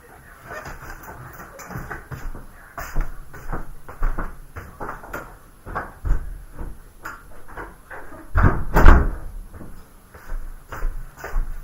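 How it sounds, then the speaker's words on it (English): A bedroom door is pushed shut with a thump and a brief rattle near the end, after a stretch of shuffling, handling knocks and movement noises close by in an indoor room. "let me just close my door real quick."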